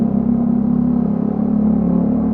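A motorcycle fitted with a new spark plug, rectifier and stator and freshly oil-changed runs close by with a steady, even low drone and little change in pitch.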